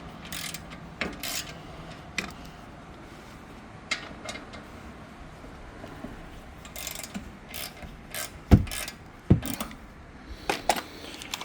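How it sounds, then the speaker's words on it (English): Ratcheting clicks and metallic clanks sound as a big bar loosens the 14 mm rear brake caliper bracket bolts on a 2020 Hyundai Kona, intermittent and close, with a few sharp louder clunks. "I'll probably just loosen it real quick with the big bar."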